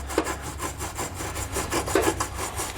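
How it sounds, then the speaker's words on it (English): A wire brush pushed back and forth inside a weld nut on a truck frame during a Curt trailer hitch install, a close, harsh scraping in quick rhythmic strokes, about a dozen passes, with no talking. "take a wire brush and run that up through there a couple times to clean them out"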